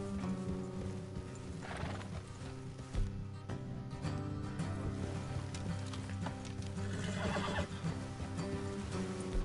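Horses in the Red Dead Redemption II video game neigh and whinny while hooves clip-clop steadily along a road, set in a dense, continuous game soundscape with background music and no speech.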